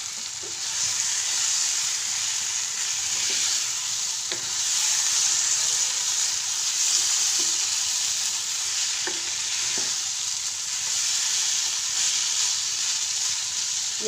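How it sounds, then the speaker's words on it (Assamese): Chilli curry sizzles steadily in a pan while a spoon stirs it, with scattered scraping clicks and knocks over a constant broadband frying hiss; no voices. "এতিয়া মই ঢাকনাখন দাঙি পেলাই অকণমান লৰাই দিম।"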